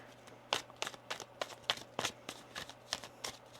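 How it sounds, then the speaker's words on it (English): Tarot cards being shuffled up close, a series of crisp riffling slaps and swishes in a fairly even rhythm, with a faint steady hum underneath. "One more shuffle here."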